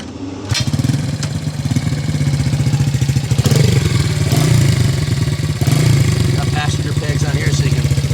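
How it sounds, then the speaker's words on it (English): A 1971 Honda CL100S motorcycle engine chugs loudly and steadily nearby on a drive-by, its throbbing rhythm rising slightly as it revs, with a voice faintly mixed in. "Let me give you a quick riding demo and do a drive-by on it."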